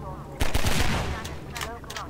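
Gunshots in Half-Life 2 ring out loud and close: a sharp burst of shots, then a few more quick reports after a short pause, with no speech over them.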